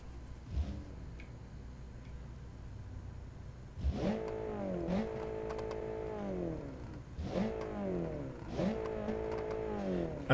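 A 1000hp turbocharged four-cylinder car engine in a video game idles with faint ticking, then revs hard in two separate bursts, each rising and dropping in pitch, with no talk over it.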